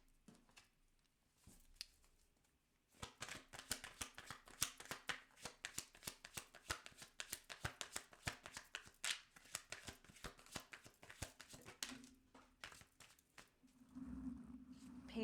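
Tarot cards are shuffled by hand in a long run of rapid riffling and flicking bursts, close and fairly quiet, with no talking over it.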